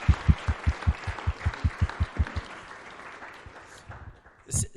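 An audience at a church testimony gathering claps in a quick, evenly timed rhythm of about a dozen beats, then the clapping loosens and fades into a quiet murmur before a brief burst of noise.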